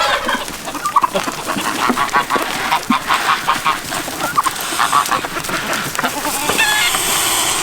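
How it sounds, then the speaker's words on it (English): Several geese honk and cackle repeatedly in a noisy, overlapping flock, loud and close, with irregular bursts of calls throughout. "I'm pretty sure this is a male goose right here"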